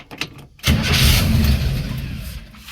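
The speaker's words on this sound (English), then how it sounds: "So let's see if it'll crank up." A 1963 Chevy II engine cranks briefly, then catches with a loud, steady roar close by, with no talking over it.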